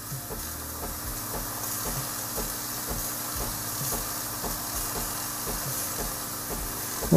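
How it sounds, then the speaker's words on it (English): A Breville Barista Express steam wand fitted with a 3-hole tip hisses steadily and loudly, with a faint rhythmic ticking of the machine running beneath the continuous rush of steam. "the steam is working well, and obviously there is no leak on the side"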